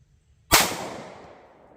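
A single loud, close pistol shot from a .40 S&W firing a Winchester 180 grain hollow point, a sharp crack followed by a reverberant tail that fades over about a second, with no voices.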